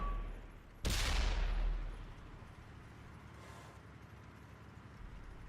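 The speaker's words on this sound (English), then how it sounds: "See some more shots being traded." A tank gun fires one sharp, loud shot in a tank battle video game, its blast decaying over about a second, followed by fainter distant firing and rumble.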